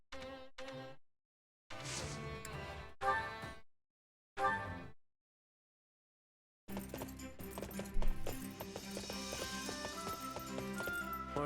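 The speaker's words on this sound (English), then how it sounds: "Horses, hmm?" Horse hooves clip-clop in short bursts separated by silences, then continue under a swell of game music, in Fire Emblem Warriors: Three Hopes.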